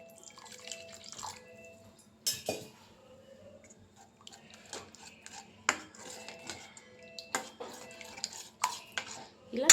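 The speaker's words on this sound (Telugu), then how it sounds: "ఇలా కలుపుతూ ఉండాలి." A spoon stirs creamy sweet corn pasta in milk in a pan, making soft wet sloshes and scattered sharp metallic scrapes and clinks against the pan, close and fairly quiet.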